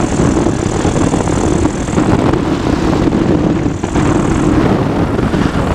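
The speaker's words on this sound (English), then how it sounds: "So let's go engine idle there and see what happens." Engine of a PeaBee flexwing microlight throttled back to idle in flight, a loud continuous propeller drone mixed with wind rush, steady throughout with a brief dip near the four-second mark and no voices.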